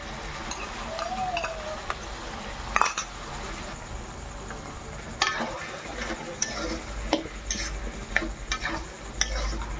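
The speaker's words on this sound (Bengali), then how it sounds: "ভালোভাবে কষিয়ে নেব" A paste of cashew, poppy seed and melon seed sautés in a pan for chana masala, a soft sizzle under repeated scraping and clinking of a spoon against the pan, close by.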